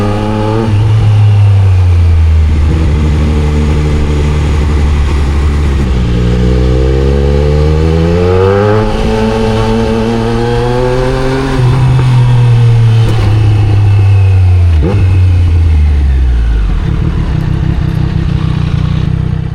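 A Triumph Street Triple 765 RS motorcycle engine runs loud and close throughout a city ride, its pitch climbing and falling through repeated rises and drops in revs, with no voices.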